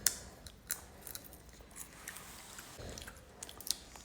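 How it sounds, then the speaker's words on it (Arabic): Seeds are cracked open between the teeth and chewed, a series of sharp close clicks and crunches scattered irregularly over low background noise. "تاكل بزر يا زلمه على هالصبح؟"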